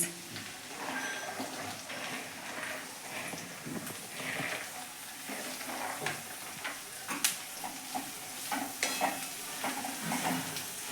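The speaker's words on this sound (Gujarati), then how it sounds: "આપણે અહીંયા કોબીસ નાખી દીધું છે અને આને મસાલાની જોડે ભેળવી લઈએ" Cabbage stirred and fried with spices in a pan for a Gujarati kobij nu shaak, giving a steady soft sizzle with scraping stirs and small clicks throughout, fairly close, with no talk.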